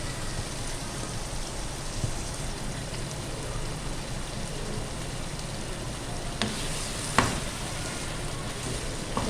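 Mutton liver (kaleji) frying in a karahi, a steady dense sizzle throughout with a couple of sharper crackles and scrapes near the end, no voices.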